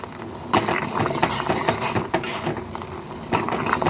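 A turmeric home-remedy mixture is stirred in a pot with a spoon, giving close, irregular clinks and scrapes against the metal with a brief louder knock now and then.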